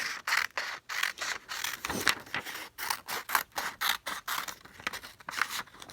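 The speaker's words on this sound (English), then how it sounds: "So you're going to cut on that dotted line." Scissors cut paper along a dotted line in a run of quick, evenly spaced snips, close and fairly quiet, each cut a crisp rasping chop followed by a short pause, with no talking.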